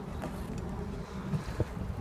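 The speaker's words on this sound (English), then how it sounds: "today's gonna be all about sailing, no engine, just sailed out of the harbor" A sailboat moves under sail alone with no engine, just out of a harbor near the Strait of Gibraltar; steady wind and water rush fill the clip with a couple of soft knocks.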